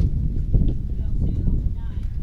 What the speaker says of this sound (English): This wind's just whipping.